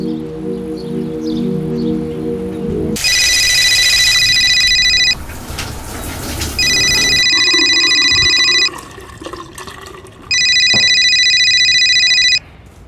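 A telephone rings in three long electronic bursts separated by short pauses, loud and close, with rustling and faint background noise between rings.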